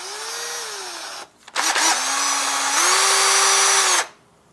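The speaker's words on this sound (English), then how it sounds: "We'll go in from the top, drill it to about there" A power drill bores into a real shad fish being made into a glide-bait, with no drill press. Its high whine is loud and close, runs briefly, stops, restarts and then holds steady for a few seconds before it stops.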